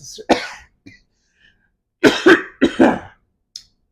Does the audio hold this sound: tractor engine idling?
no